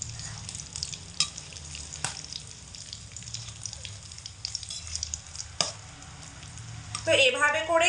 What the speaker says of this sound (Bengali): এভাবে করে একটু উল্টে দিলাম যাতে করে অপর পিঠটাও ভাজা হয়